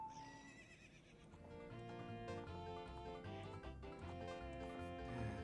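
A horse whinnies over a backdrop of music and hoofbeats, with a synthetic, game-like sound, in The Legend of Zelda: Ocarina of Time.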